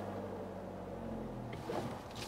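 Nissan X-Trail SUV reversing on an offroad Himalayan track, its engine a low steady hum that shifts into rougher rumble and crunching as it moves.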